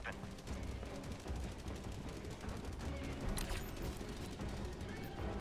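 Sustained gunfire from a Helldivers 2 battle, dense volleys of shots and blasts rolling continuously at steady loudness throughout.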